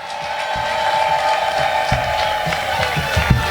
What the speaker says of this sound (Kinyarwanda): Abemera ko Yesu ari number 1 tumuha amashyi tumuvugiriza impundu